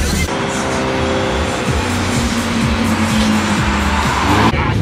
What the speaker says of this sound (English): Nice exhaust.